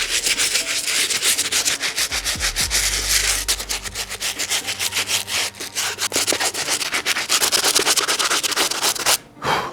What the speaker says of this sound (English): let's get the slip bristle brush and clean up these outsoles